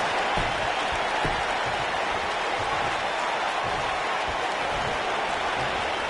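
A dense, steady roar of crowd noise from the WWE 2K19 video game fills the whole stretch, with scattered clapping and cheering blended into a constant wash.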